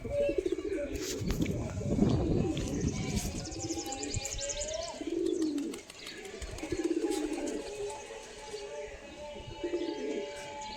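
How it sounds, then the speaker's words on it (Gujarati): A pet pigeon coos repeatedly at close range in soft, throaty bursts, while other birds chirp faintly in the background. "જો આપણો કબૂતર જો ખાલી બોલે."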